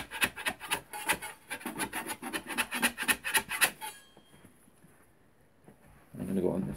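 A wide putty knife scraping a wallpaper border off a wall gives a quick run of rhythmic rasping strokes, fairly close. Then it goes quiet, and a voice comes in briefly at the end.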